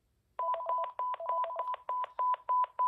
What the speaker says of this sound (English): First, here's the handset locator.